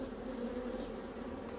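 Dense, steady buzzing of a honeybee swarm newly introduced into a modular hive, a close, continuous low hum with no pauses.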